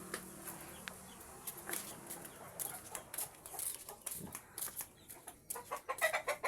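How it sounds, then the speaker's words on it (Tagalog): Chickens cluck and a rooster calls at intervals amid outdoor farmyard noise, with scattered short bird sounds. "Meron silang tandang dito guys."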